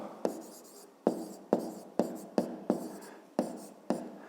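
A pen writes by hand on paper in a series of about nine short, sharp scratching strokes at an uneven rhythm, close and fairly quiet.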